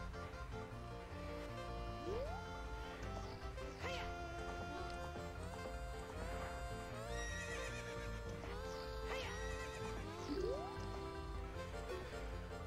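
A horse in The Legend of Zelda neighs in rising, whinnying calls several times over a steady game soundscape, with soft hoof clip-clops and watery drips in the background.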